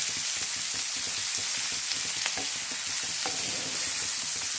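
Beaten eggs sizzle steadily in a hot pan while being stirred for an egg fry, a constant loud frying hiss with the spatula scraping and tapping irregularly beneath it.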